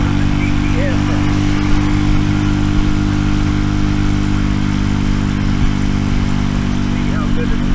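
An RPS Racer 140 pit bike engine with a stainless exhaust runs steadily, a loud, even drone close by that holds the same pitch throughout.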